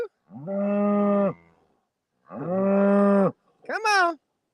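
Cows on a farm moo twice in long, loud, drawn-out calls, followed by a shorter, higher-pitched bellow, all close by with quiet gaps in between.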